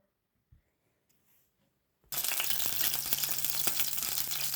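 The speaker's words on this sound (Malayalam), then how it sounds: "ഗ്യാസ് കത്തിച്ച് എണ്ണ ഒഴിച്ചു. അതിലോട്ട് കടുകിട്ടു." Mustard seeds sizzle and splutter in hot oil in a pan on a gas stove. After a near-silent start with a faint clink, a sudden loud, dense crackling frying begins and continues steadily, close up.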